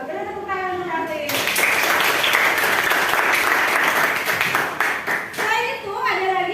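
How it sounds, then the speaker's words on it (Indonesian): A classroom of children breaks into loud applause that lasts several seconds, with a teacher speaking before and after the clapping. "Beri tepuk tangan untuk Raffi."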